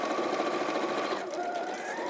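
A sewing machine stitches steadily across fabric for a pouch, a fast, even mechanical whirr heard up close and fairly quiet throughout.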